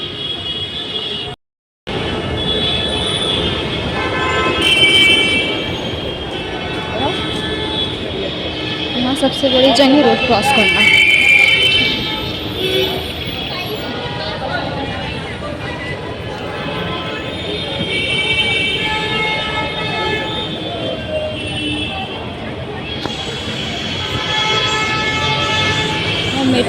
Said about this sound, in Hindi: फाइनली अब मैं अपने कॉलेज के मेट्रो स्टेशन तक पहुंच गई